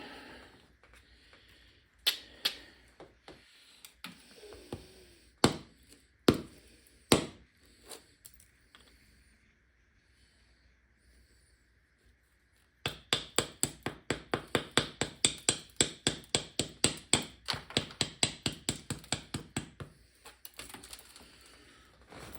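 Opalized petrified wood is knapped to strike off flakes. Early on come scattered sharp, clicky strikes with pauses between them, then a long run of rapid, regular taps. All of it is close and dry, with no talking.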